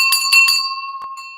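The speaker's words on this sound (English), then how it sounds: "A bell for that." A small hand bell rung sharply three times in quick succession, bright and close, followed by a softer single ring that leaves a long metallic ring, with no voices.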